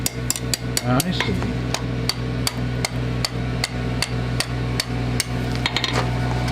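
Rapid metallic hammer blows on hot metal at a blacksmith's forge ring out in a steady rhythm, close and loud, with a few irregular pauses and a low background hum.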